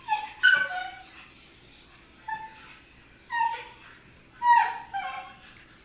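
Dachshunds at play give high, thin whimpers and short yips, repeated in uneven bursts close by, with no voices over them.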